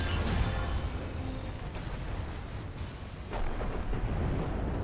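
Missile barrage turret in the video game Outriders, played as a Technomancer, pounding out a dense, continuous rumble of overlapping blasts at steady loudness with a heavier surge near the end, no voices.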